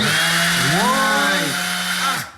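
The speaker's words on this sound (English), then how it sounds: "this is a big palm sander now. Let's see if it works, click it on" A big battery-powered palm sander clicks on and its motor spins up into a loud, close, rising whine. The whine holds steady briefly, then cuts off and winds down.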